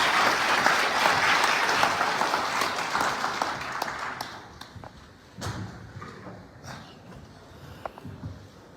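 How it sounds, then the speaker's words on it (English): An audience at a Brussels forum applauds to welcome Sierra Leone's president, starting as dense, loud clapping that thins out into scattered claps and fades. "A round of applause, please."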